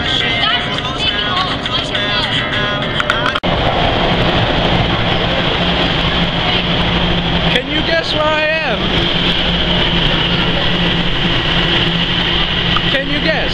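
A Toronto subway train in a station, a loud continuous rumble and roar of the moving train with screeching wheel squeals rising and falling, while people talk.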